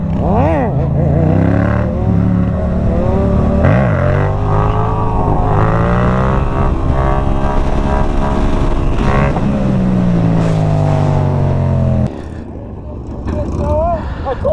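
A Yamaha MT-07 motorcycle's exhaust roars loudly and up close as the rider revs and accelerates through rising and falling engine pitch. The tone shifts near the end as the throttle eases off.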